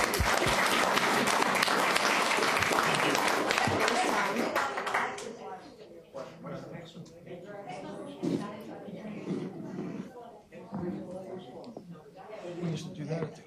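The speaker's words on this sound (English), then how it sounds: "How about another round of applause?" An audience at a city council meeting applauds in a loud, dense burst that lasts about five seconds and then thins out as people begin talking over scattered claps.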